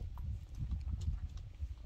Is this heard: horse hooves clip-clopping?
yes